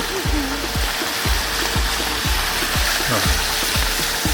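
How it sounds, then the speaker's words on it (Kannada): Dense, steady hiss of heavy rain with rushing water underneath, loud and continuous, with faint voice-like tones drifting through. "ಇಷ್ಟು ಮಳೆ ಬೀಳ್ತಾ ಇದೆ"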